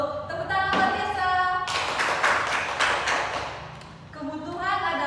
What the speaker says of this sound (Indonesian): Tepuk tangan Mbak Tessa